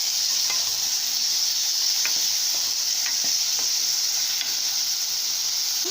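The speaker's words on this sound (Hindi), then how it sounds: "फ्रेंड्स, अब मैं टमाटोज ऐड कर रही हूँ। इन सबको मिला के अच्छे से फ्राई कर लेंगे।" Tomatoes and masala noodle ingredients fry in a pan with a steady, close hiss and sizzle, broken by a few soft stirring scrapes and clicks throughout.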